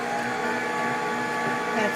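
A HOMGEEK slow juicer runs steadily while juicing carrots, giving a constant motor whine and grinding hum with no breaks across the short stretch.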